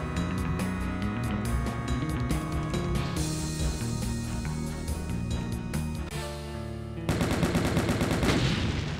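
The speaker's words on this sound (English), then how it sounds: "kill the rest of them with the super shotgun" Rapid, loud bursts of super shotgun fire in Final Doom (TNT: Evilution, MAP28 Heck), blasts stacking densely over game music and effects, alone without speech.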